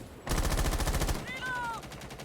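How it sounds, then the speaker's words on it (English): Rapid automatic gunfire from wall bang shots in a Rainbow Six Siege collegiate esports match, a loud sustained burst of evenly spaced shots that stops abruptly, followed by game sounds and a brief voice. "Tack going for some wall bang shots, not getting anything though"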